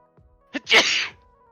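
A single sharp sneeze during a tabletop gaming session, a brief intake followed by a loud burst, close to the microphone and otherwise quiet around it.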